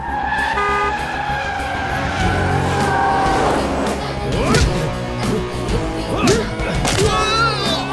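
In an action film police scene, a car is driven hard, with roaring engine, skidding and squealing tyres in quick bursts, loud and close, under shouting voices and dramatic film sound.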